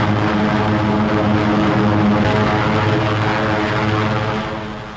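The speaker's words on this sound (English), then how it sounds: "giant flying fortresses that drop their tons of high explosives on pinpoint targets" WWII B-17 Flying Fortress heavy bombers in flight, a steady, loud, dense propeller-engine drone with throbbing low harmonics that holds throughout and eases slightly at the end.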